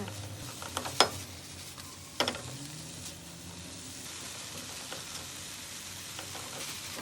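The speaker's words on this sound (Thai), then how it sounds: "แล้วก็ผัดคลุกเคล้าให้เข้ากันค่ะ" Sea bass is stir-fried in a pan with curry powder, milk and seasoning powder, making a low steady sizzle with a few sharp spatula scrapes and clinks near the start.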